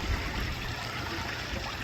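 A small waterfall spills into a partly iced-over koi pond as it begins to thaw, giving a continuous close rush and trickle of running water with no other sounds.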